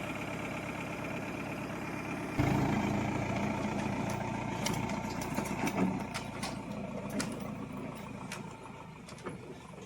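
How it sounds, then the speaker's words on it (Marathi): A large truck that delivered building sand starts up and pulls away, its engine rising suddenly into a loud, rumbling drone that slowly fades, with scattered clicks and rattles over it. "आता निघाली गाडी"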